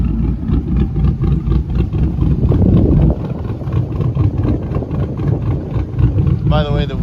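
Chevy 5.3 V8 fitted with a TSP Chopacabra cam idling in a Silverado, a loud, lumpy, choppy rumble with an uneven loping rhythm, close by, with a voice briefly speaking near the end.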